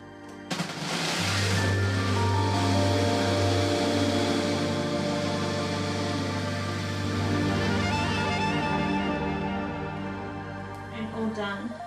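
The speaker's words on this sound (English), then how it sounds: "Over to the blender." A blender whirs through a green smoothie made with hazelnut meal, a loud steady motor drone that starts after a second and holds with shifting pitch before easing near the end.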